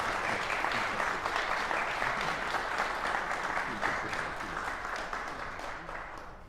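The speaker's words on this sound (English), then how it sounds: "Please give a strong applause to our guest artists" An audience at a trumpet festival masterclass applauds guest artists with loud, steady, dense clapping that carries on for several seconds and tapers slightly at the end, with no talk over it.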